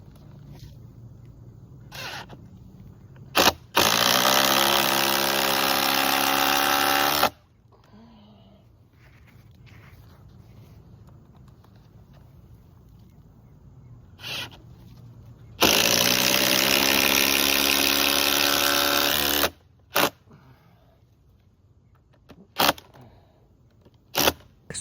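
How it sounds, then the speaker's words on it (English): A power drill drives screws into treehouse beam supports in two long bursts, each a few seconds of loud motor whine with a low buzzing hum. Short knocks and clicks of handling fill the quieter gaps. "I'm just gonna go ahead and put the rest of my spec screws in"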